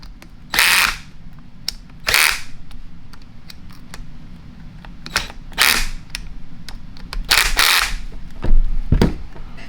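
A Matco MT2112 3/8-inch air impact wrench fires in several short, loud hammering bursts separated by pauses, with later bursts at a stronger torque setting, up close and with no talk.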